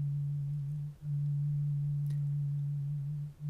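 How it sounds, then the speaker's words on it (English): A voice recording filtered down to its lowest overtone, leaving a single steady low hum that holds for several seconds with two brief dips, over a faint hiss background. "now you can hear that only the lowest overtone of my recording is audible"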